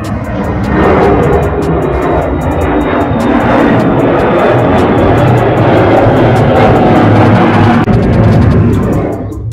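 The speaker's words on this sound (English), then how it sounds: "We hear planes all the time." Loud, sustained roar of an airplane passing overhead, a broad rumbling drone that stays strong for several seconds before easing off at the end.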